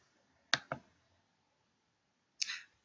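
Computer mouse clicks while opening a spreadsheet file: a quick pair of crisp clicks, then a single click after a pause of almost two seconds, quiet and close in an otherwise silent room.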